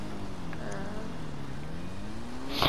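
Motorbike engine in GTA 5 droning steadily while doing wheelies in a parking garage, with the pitch dipping and rising as the throttle shifts and a brief louder burst at the end.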